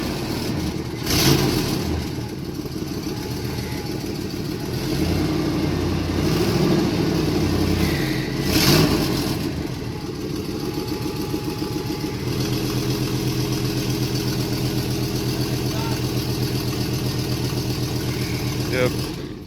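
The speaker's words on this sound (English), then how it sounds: "So, it has an exhaust leak, which we both expected" Car engine fitted with high-flow cats and suffering an exhaust leak, starting and revving in a garage, with two sharp rev blips over a steady rough idle, loud and close, while people talk over it.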